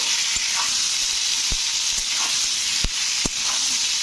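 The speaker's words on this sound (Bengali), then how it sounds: "তো পটলটাকে কিন্তু ভালো করে ভেজে নিতে হবে" Pointed gourd pieces seasoned with salt and turmeric fry in a pan, giving a loud, even sizzle throughout with a few sharp clicks from stirring.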